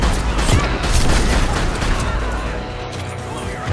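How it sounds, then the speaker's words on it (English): Sniper rifle fire in the video game Mass Effect 2, during the Kasumi's Stolen Memory mission, heard as a dense, loud run of heavy booming shots and impacts that blur together over continuous combat noise. "I love the sniper rifle."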